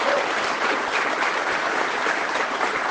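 Steady, dense applause from an audience at a Conservative political event, a continuous wash of many hands clapping at even loudness throughout, with no voices standing out.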